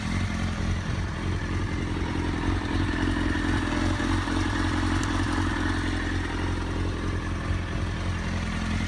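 A Kawasaki ZX6R sport motorcycle engine from 2003–2004, one with electrical problems, runs steadily close by. A continuous low mechanical rumble with clattery texture carries through the whole stretch without pauses.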